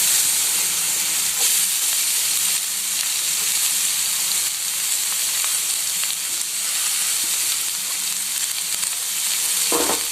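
Cabbage with carrot and beans sizzling and frying in a pan for chicken fried rice, a continuous bright hiss with occasional stirring scrapes, close and loud with no talking.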